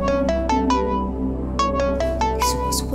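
A phone ringtone rings early in the morning in a Pakistani drama scene, a bright repeating electronic melody of short chiming notes, loud and close with no talk over it.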